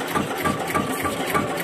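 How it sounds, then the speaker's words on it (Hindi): An Eicher 241 tractor diesel engine running in reverse rumbles with a steady knocking chug, loud and close, continuing without a break. "इंजन उल्टा स्टार्ट हो रहा है इसका"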